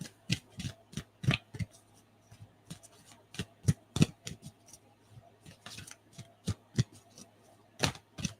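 Crisp, irregular slaps and riffles of cards being shuffled, close by, in quick bursts with short pauses and a faint steady hum underneath.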